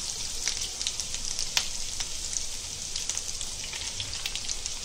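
Fish frying over high gas in hot oil with ginger, garlic and curry leaves, a steady close sizzle with crackling pops throughout.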